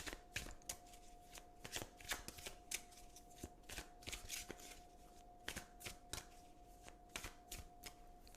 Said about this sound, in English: let's choose an oracle card for a daily affirmation